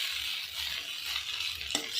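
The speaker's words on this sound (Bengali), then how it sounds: "এবারে কিন্তু আমি মিশিয়ে নিচ্ছি, একসঙ্গে সব কিছু দিয়ে মিশিয়ে নিচ্ছি।" Boiled chow mein is tossed together with fried ingredients in a pan with very little oil, giving a soft, close rustle of stirring over a faint sizzle and ending in a sharp clink of the utensil against the pan.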